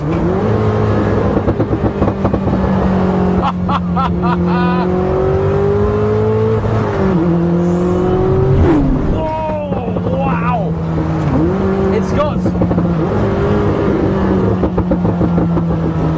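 Koenigsegg Chimera supercar engine in manual mode revving hard, with repeated rising and falling pitch sweeps through upshifts and sharp downshifts, loud and close, with excited voices talking over it.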